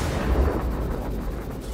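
Spaceship weapons fire in Star Citizen, a loud, heavy, continuous rumbling barrage with deep low-end booms and a faint rhythmic pulsing, close and sustained without speech.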